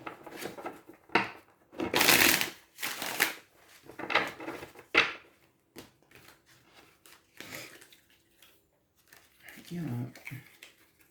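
A tarot card deck is shuffled close by in irregular bursts of papery riffling and rustling, with quiet gaps between handfuls and some faint murmured voice.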